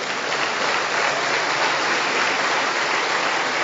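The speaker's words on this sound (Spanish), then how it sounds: "yo le daría un fuerte aplauso al Señor en esta mañana" Congregation in a church service applauding, a dense, steady wash of clapping from many hands that fills the whole stretch without a break.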